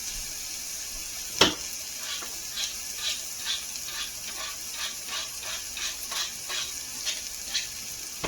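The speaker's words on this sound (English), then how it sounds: "So that's going to sit there and fry up." A burger fries in a pan with a soft, steady sizzle, punctuated by a sharp clink early on and a run of faint, regular crackles and pops.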